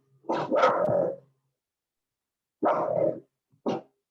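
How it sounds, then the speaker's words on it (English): A dog barks near the microphone during an online watercolor painting session, a rough double bark followed after a pause by two more, the last short and sharp, with silence between. "dog just started barking as well"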